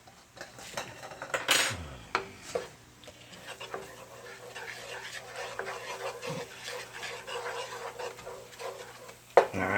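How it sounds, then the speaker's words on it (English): Minced garlic pushed around a pan with a utensil, intermittent metallic clinks and scrapes at moderate distance over a quiet room, with a dog panting and whimpering in the background. "I am going to put my garlic in, but I'm just going to swish it around"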